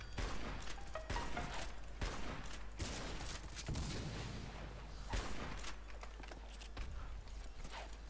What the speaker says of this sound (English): Oh god, someone just shot me.